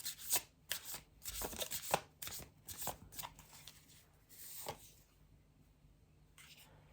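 Tarot cards are shuffled and pulled close up, making a burst of papery riffles and snaps that thins out into occasional soft flicks and then near quiet.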